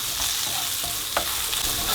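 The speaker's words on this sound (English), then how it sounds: "fry that for a minute" Chili, turmeric and coriander masala sizzle and crackle in hot oil in a pan, with a constant hiss and occasional scrapes of stirring close by.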